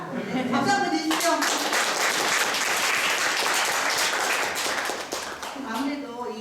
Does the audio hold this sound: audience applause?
yes